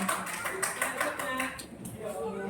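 Classroom applause after a lesson, a steady patter of hand claps from a group of students, moderately loud, with voices mixed in.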